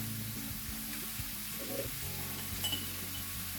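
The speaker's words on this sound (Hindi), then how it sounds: "थोड़ा फ्राई करूँगा" Masala fries in a pan for chicken and potato gratin, a steady close sizzle with light stirring and faint clinks of a utensil throughout.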